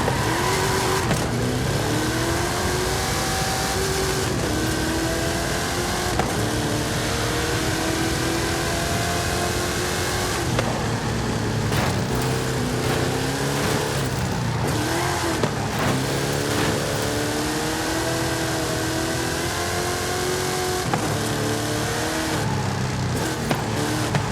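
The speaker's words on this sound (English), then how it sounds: "How about you and I test them in a drag race?" Hot Wheels Snake and Mongoose cars drag racing in Forza Horizon 5: loud, continuous engine roar with rising and falling revs through gear shifts, occasional tire squeal, close and sustained for the whole stretch.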